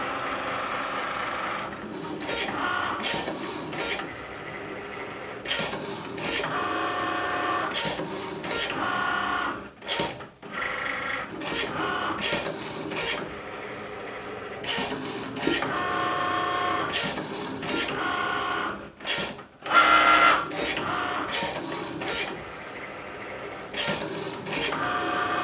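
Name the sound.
Cricut Maker cutting machine cutting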